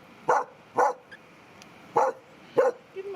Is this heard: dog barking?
yes